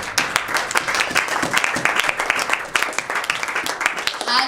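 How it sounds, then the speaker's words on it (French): Congregation applauding during a Sunday worship service in a church, dense continuous clapping filling the room throughout, with voices mixed into the crowd noise. "nous acclamons Jésus."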